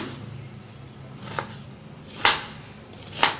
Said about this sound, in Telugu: ఇలా చిన్న చిన్న ముక్కలు చేసేసుకొని